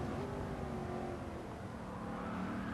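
1971 Ford Mustang Mach 1 engine in the Gran Turismo 7 racing game during a time trial, a continuous steady engine drone under full throttle, fairly quiet and even with no talk.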